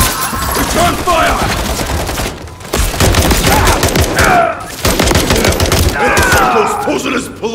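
Heavy, continuous gunfire in the Call of Duty Modern Warfare III campaign. Dense automatic bursts and shots overlap with loud battle effects, and voices shout over the din.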